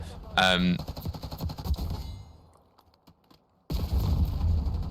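Rapid automatic gunfire in Black Ops 6 ranked multiplayer: a dense burst of shots, a fading tail into near quiet, then a second loud burst, with a voice talking over the opening.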